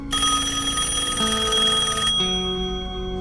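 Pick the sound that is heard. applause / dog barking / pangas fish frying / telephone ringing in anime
telephone ringing in anime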